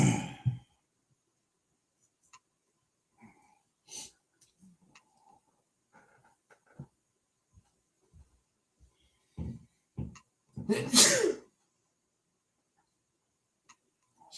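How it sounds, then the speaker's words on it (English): A mostly quiet stretch of faint clicks and breaths ends in one sudden, loud sneeze up close. "I gotta sneeze."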